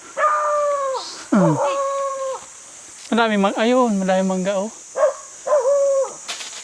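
Several dogs whine and yelp in drawn-out, rising and falling cries in a forest area, with bursts of people talking nearby between them.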